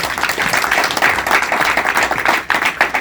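An audience at a political campaign event in Port-Gentil applauds steadily, with dense continuous clapping at a moderate distance throughout.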